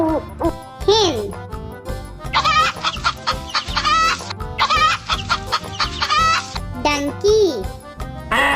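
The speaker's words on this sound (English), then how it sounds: "Hen." A hen clucks in repeated short bursts against bright, jingly children's music, with a voice speaking briefly between the calls.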